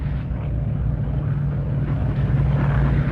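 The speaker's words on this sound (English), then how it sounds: "we heard the engines of heavy aircraft, and now flying low to drop their supplies, I can see over the tops of the trees Sterlings, Halifaxes, Dakotas" Low, steady drone of heavy wartime aircraft engines, Stirlings, Halifaxes and Dakotas flying low overhead on a supply drop, a continuous rumble with no talk.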